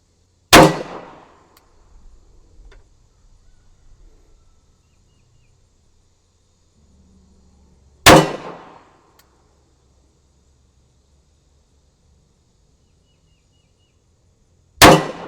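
Three sharp gunshots from a Ruger MK IV pistol fired at a target about 20 yards away, spaced several seconds apart, each a crisp loud crack with a short decay and quiet gaps between.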